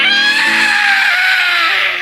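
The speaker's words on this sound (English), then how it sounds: "Moments later, I heard a loud scream." Loud, shrill human scream held for about two seconds, close and piercing, wavering slightly before trailing off.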